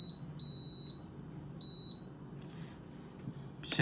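A Power XL oven's control panel beeps when set to bake: two sustained high electronic tones, separated by a short pause, followed by faint handling clicks.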